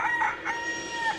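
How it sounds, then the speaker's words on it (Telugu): A rooster crows in a Telugu comedy scene, one clear, fairly faint call lasting about a second with no talk over it. "కోడి కూసింది"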